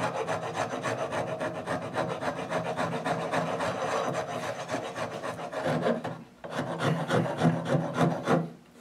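A rasp files a scrap-wood guitar neck in steady, rapid back-and-forth strokes, close and loud, with a brief pause before the rhythmic scraping resumes.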